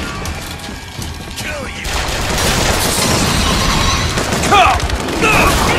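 Sustained gunfire and booming blasts from Bioshock Infinite combat, loud and dense throughout, with someone shouting over the shooting.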